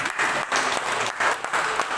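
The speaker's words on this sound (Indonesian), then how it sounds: "Tepuk tangan untuk dia." Church audience claps in applause, a dense, even run of hand claps with short rhythmic swells, close and fairly loud throughout the brief stretch.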